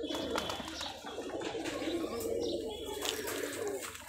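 Rajshahi local Geribaj pigeons, a hand-flying breed, coo in a low repeated rolling rhythm close by, with a few chirps and a brief flutter of wings mixed in.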